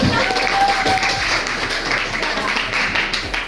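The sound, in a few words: classroom applause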